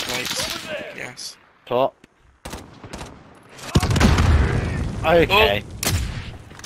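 Gunfire from Call of Duty Warzone pops in short, close bursts and heavier rumbling volleys, mixed with players talking and exclaiming over it.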